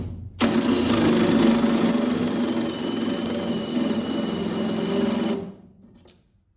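A power drill bores into the wall of a box truck in one steady, loud run of about five seconds, close up, then winds down and stops, with no voices.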